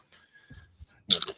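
Crunchy snacks bitten and chewed close to a microphone, a few soft mouth sounds followed by one loud sharp crunch at the end, otherwise near silence.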